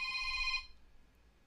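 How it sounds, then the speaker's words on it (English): A telephone rings during a live morning talk radio show, a single short bright electronic ring that cuts off and leaves quiet room tone. "Please silence your phone when on the air."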